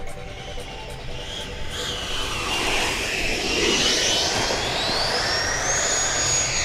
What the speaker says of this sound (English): You guys really don't have to do all that much to land this jet.